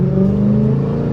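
A Dodge Charger engine revs loud and close, a deep steady roar with Hellcat-like character that holds for a short burst.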